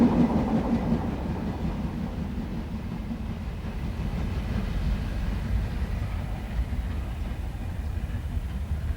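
The Flying Scotsman steam locomotive hauling its train on tour in Australia, a steady rumbling roll with rhythmic wheel clatter heard from a distance, unbroken for the whole stretch.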